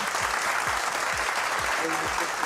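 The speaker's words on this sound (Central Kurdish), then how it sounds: "با یەک چەپڵەی بەهێز لێبێنین و پیرۆزبایی لێ بکەین" Loud, dense applause from a studio audience on a quiz show, continuous clapping for the whole stretch, with a few voices rising briefly near the end.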